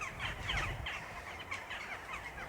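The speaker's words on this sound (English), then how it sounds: "I've got those creepy birds. What's that about? Weird bird noises going on." Crows cawing in a graveyard in Sighișoara, several harsh calls repeating over the whole stretch at moderate distance, with steady outdoor background noise and no talking.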